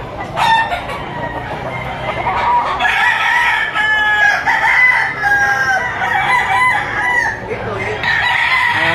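Roosters crow repeatedly and chickens cluck at the Lipa chicken auction market in Batangas, loud and close, one crow after another over busy crowd murmur.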